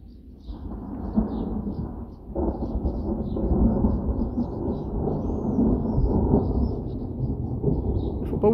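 Deep rumbling thunder rolls continuously through a violent storm, broad and loud, with steady rain noise underneath and no voices.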